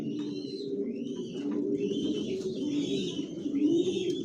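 Racing pigeons cooing steadily in a loft, one sitting on eggs, with soft overlapping coos and faint chirps continuing throughout at close range.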